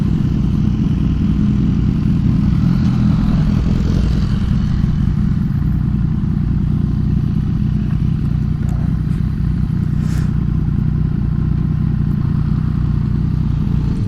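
A Yamaha MT-09 motorcycle engine runs steadily at idle, a loud continuous low rumble with a faint clatter and no voices.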